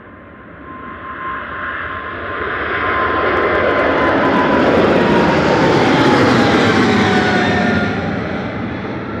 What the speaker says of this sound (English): This is Qatar Flight 28 to Doha, A7BAS, a 777-300ER departing.